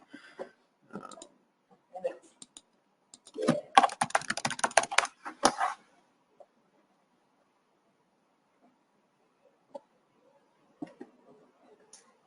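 Computer keyboard typing and mouse clicking in an office setting, scattered soft clicks then a dense burst of rapid keystrokes, followed by near-silence with a few isolated taps.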